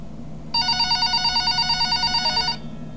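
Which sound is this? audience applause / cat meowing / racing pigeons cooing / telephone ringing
telephone ringing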